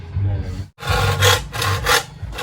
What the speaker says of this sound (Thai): อันนี้คือเลื่อยไม้ขัดก้น